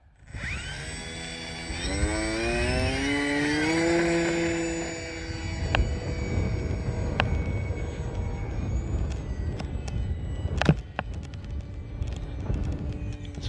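A Sig Kadet radio-controlled model airplane's engine whines in flight, its pitch climbing steeply over the first few seconds before settling into a steady buzzing drone, with a few sharp clicks scattered through it.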